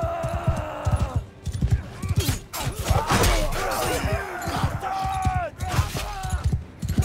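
Horse hooves pounding in Mount & Blade 2 Bannerlord battle, rhythmic thuds mixed with clashing, crashing combat noise and shouting, loud and busy throughout.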